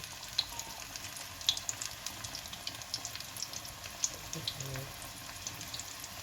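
Vegetable pakora frying in hot oil, a continuous bubbling sizzle with small crackling pops close up, with a voice speaking quietly over it.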